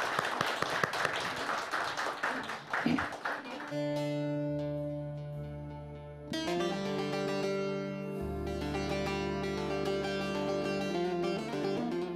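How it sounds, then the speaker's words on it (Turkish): An audience applauds a violinist with a burst of dense clapping that fades after a few seconds, and then sustained, steady musical tones take over. "hadi bakalım bir alkışlayalım Kemancı Hüseyin abimizi."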